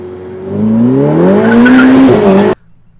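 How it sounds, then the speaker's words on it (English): A Ferrari launches hard in first gear with traction control off, its engine note climbing loud and close for about two and a half seconds, with a brief tire squeal, before cutting off abruptly. "Show you what happened when I hit it in first gear."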